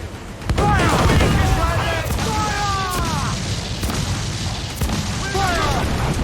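Ship cannons roar in a broadside in Assassin's Creed IV Black Flag, a string of heavy booms and sharp cracks over continuous battle noise, with shouted voices and whistling tones mixed in.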